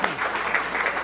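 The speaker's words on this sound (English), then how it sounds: "I want to give you guys a round of applause" Audience at a live music session giving a steady burst of applause, dense and even clapping at moderate loudness throughout.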